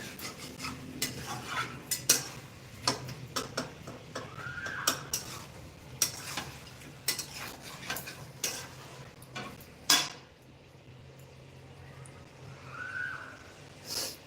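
Home kitchen cooking: a utensil scrapes and clinks against a pan in scattered sharp taps and stirs over a faint background hum, with a brief soft whistle or squeak, and no talking.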